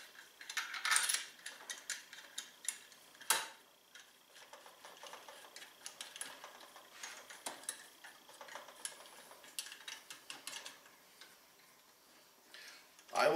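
A ratchet tightening the clutch bolts on a Polaris RZR XP 1000 makes faint, irregular clicking in quiet surroundings, with a few louder ticks standing out.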